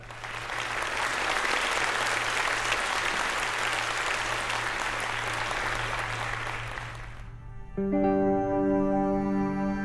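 Festival audience in a hall applauds to welcome a singer from Crimea with a long, dense wash of clapping over a low hum. It thins out near the end as a bright sustained musical tone takes over.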